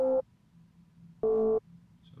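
An FM bass patch built in Serum, with the first oscillator modulating oscillator B, plays two short sustained buzzy notes separated by a second of near silence, clean and alone.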